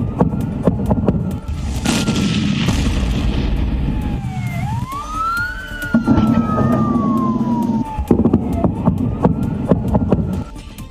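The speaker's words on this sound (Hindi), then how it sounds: "फिर एक के बाद एक कई गाड़ियों में ब्लास्ट हो जाता है।" A couple of heavy booming blasts from burning vehicles exploding one after another ring out amid crackling, while an emergency siren wails and sweeps in pitch nearby.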